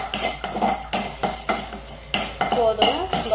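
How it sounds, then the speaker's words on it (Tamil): Cardamom pods being lightly dry-roasted in a pan: a steady run of sharp metallic scrapes and clinks from stirring, roughly every half second, close and fairly loud with no talking. "ஏலக்காயும் ஒரு தடவை வறுத்துக்கலாம், லைட்டாக, நிறையவெல்லாம் வறுக்க தேவையில்லை"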